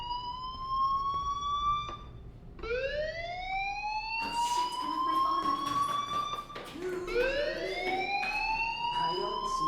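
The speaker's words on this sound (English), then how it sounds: "Hey, do you hear that fire alarm?" In the video game Life Is Strange, a school fire alarm wails with repeated rising electronic sweeps that swell and fall in pitch, loud and continuous over a low background hum.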